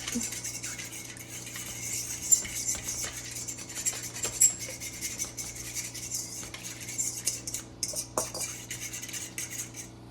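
A utensil stirs dill seed bread ingredients in a bowl, making a steady run of close metallic scrapes, clinks and rattles of irregular rhythm throughout.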